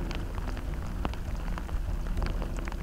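Steady rain falls in a snowy, wintry deer-hunting setting, a dense close patter of drops with a few sharper taps standing out, and no voices.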